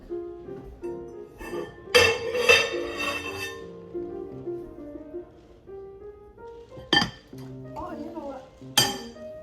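Metal lid being set onto a pan of fish cooking with soy and fish sauce, heard as bright clinks and clatters of pan and lid, a cluster early on and a couple of single knocks later, with a voice speaking in between.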